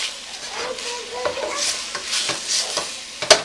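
A medium-large onion sizzles in a pot with seared meat for homemade stew, a soft close crackle with scraping stirs and a sharp clink near the end.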